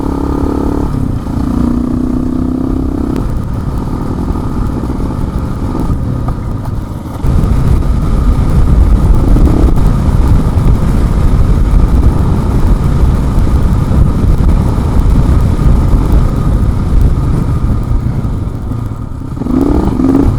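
A motorcycle ridden along double track through a flat Oklahoma pasture, the engine loud and close with steady revving, rough rumbling and wind noise over uneven ground for the whole stretch.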